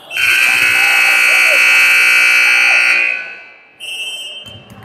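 A loud, sustained electronic buzzer at a girls' volleyball game blares steadily for about three seconds, cuts off, then a shorter burst follows amid faint background noise.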